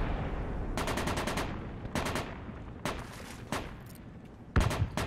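Mortar and gunfire in a multiplayer war video game, sounding as rapid bursts of loud shots in several volleys separated by short pauses, with a heavier boom near the end.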